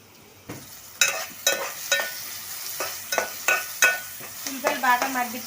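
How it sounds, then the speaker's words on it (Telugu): Garelu (lentil vadas) frying in hot oil sizzle softly under a rhythmic series of sharp utensil clacks and stirring scrapes, roughly every half second; a voice speaks briefly near the end. "ఆయిల్ వీటెక్కాక గారెలు అయితే వేసేసుకుందామండి"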